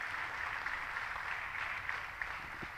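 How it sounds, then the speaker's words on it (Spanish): A church congregation applauds during a Spanish-language service, a steady, fairly soft wash of many hands clapping that runs evenly for just under three seconds, with a few sharper claps standing out. "¿Cuántos pueden dar un fuerte aplauso a Jesús?"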